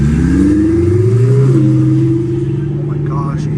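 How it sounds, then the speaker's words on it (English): Hellcat Redeye or twin-turbo Lamborghini accelerating at night in downtown Los Angeles, a loud steady engine note climbing in pitch, briefly dipping on a gear change, then holding a rising drone close by. "you hear that turbo sound amazing."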